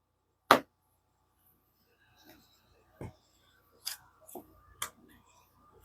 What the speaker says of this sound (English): let's cut the deck and do the career